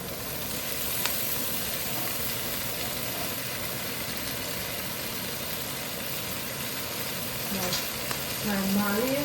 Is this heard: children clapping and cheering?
no